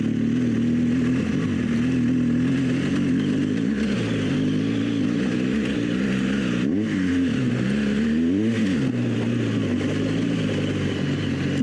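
A BMW R1200GS motorcycle in enduro mode rides along a dirt road, its engine droning steadily and loud throughout with rises and dips in pitch as the throttle changes, and wind noise over it.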